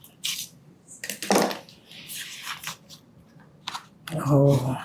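A packet of mixed-grain premix is torn open beside a pot of boiling water, with scattered crinkly rustles and snips heard near and fairly quiet while a person talks.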